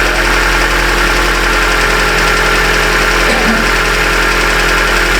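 A 2010 Hyundai Accent with a no-start fault runs at a loud, steady idle right beside the listener, with a constant dense engine rumble and faint vibration and no voices.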